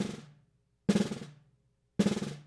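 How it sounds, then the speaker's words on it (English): Three longer, chunkier snare drum buzz strokes played with lighter stick pressure, each rattle bouncing on for a moment before fading, up close with nothing else heard. "I can get a longer, sort of chunkier buzz."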